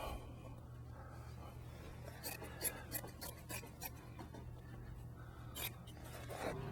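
Scissors trimming burlap padding for a LeBaron Bonney spring installation, a faint series of soft rasping snips and rustles close by in a quiet room, with no talk.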